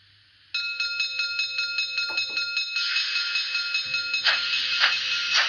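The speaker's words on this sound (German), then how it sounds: "Und dann haben wir als F7 die Glocke." A bell rings in a steady, rapid repeating rhythm, clear and close, with mechanical rumbling and a hiss building underneath; the bell sound function of a Märklin 37897 Class 50 H0 digital model steam locomotive.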